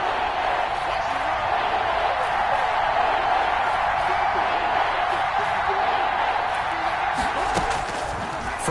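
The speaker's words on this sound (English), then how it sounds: "the crowd getting into it as we come up on a big 3rd down." Stadium crowd in an American football video game on PS4 as a big third down approaches, a constant dense roar of cheering filling the background, with scattered claps and whoops.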